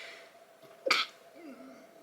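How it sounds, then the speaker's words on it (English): A single short, sharp sneeze close to the microphone, breaking briefly through quiet background hiss. "Oh no, that's the worst time to sneeze."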